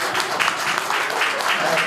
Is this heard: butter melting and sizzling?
no